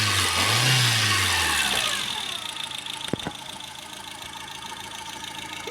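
A 2012 petrol car engine revs up loudly near the start, then falls back to a steady idle. A sharp click comes after the rev dies down, and no one talks.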